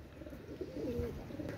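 A pair of Oman Teddy pigeons, a male and a female, give a soft, low, brief coo close by against quiet background noise.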